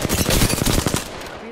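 Rapid automatic gunfire in a video game rattles off as a close, loud burst of about ten evenly spaced shots in just over a second, then cuts off.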